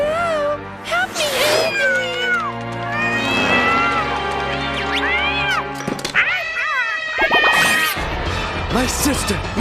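A cartoon cat meows and yowls repeatedly in sliding, wavering cries, loud and close, amid crashes and thumps of animated slapstick.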